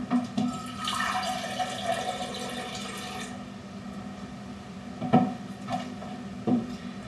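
Water pours steadily into a container for a few seconds, then settles into quieter sloshing and a few soft knocks, close by.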